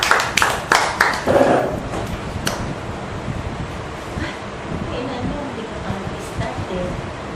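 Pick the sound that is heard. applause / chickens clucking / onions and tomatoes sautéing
applause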